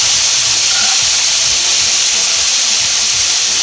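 Beef sirloin for tacos sizzles loudly and steadily in a hot pan, a dense continuous hiss with faint pops underneath.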